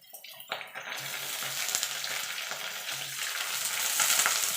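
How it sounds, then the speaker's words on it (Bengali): Potatoes and cauliflower sizzling in hot oil in a pan, starting with a sharp burst as the cauliflower goes in, then a steady, close frying hiss with occasional light stirring clicks. "এবার ফুলকপিটা দিয়ে দেবো।"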